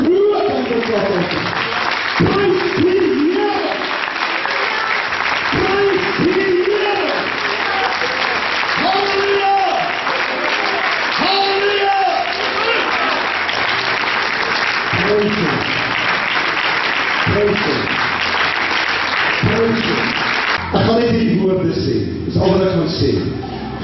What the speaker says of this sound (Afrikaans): Kom ons hier God te groet en te klap uit.